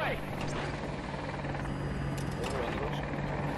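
An Apache attack helicopter in the Battlefield 2042 video game drones steadily throughout, its rotor hum continuous under busy game noise and faint voices.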